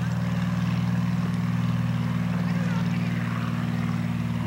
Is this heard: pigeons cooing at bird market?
no